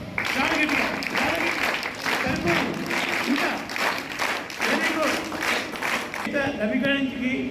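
Scattered clapping from a small gathering at a birthday celebration for Chayutha Ravi, heard in short bursts under a man's ongoing speech through a loudspeaker.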